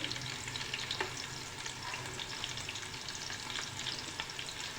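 Whole spices, including black cardamom and cinnamon, sizzle steadily in hot oil for prawn pulao, a close, continuous crackling fry with light stirring throughout and no talk.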